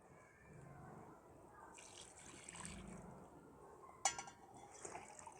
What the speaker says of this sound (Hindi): अब इसमें जो यखनी हमने निकाल के रखी हुई वो शामिल करेंगे